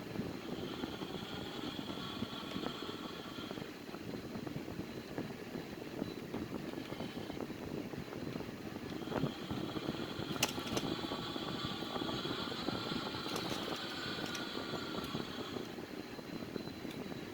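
A Sukhoi Su-30 jet engine in a flight simulator roars under thrust in flight, a steady whooshing drone with a faint high whine that stays even and fairly quiet throughout, with no voices.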